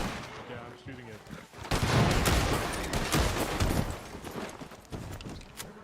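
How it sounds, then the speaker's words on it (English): Gunfire in the Red Dead-style roleplay game WildRP rings out as loud, dense bursts of shots that swell and carry on for several seconds with little pause. "I hear shots."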